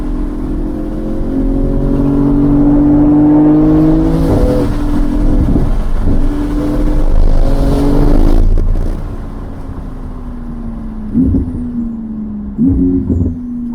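A Porsche 911 GT2 sports car takes a bend. Its engine drones steadily and rises in pitch, then the note drops and settles lower, with a couple of brief revs near the end, loud and close throughout.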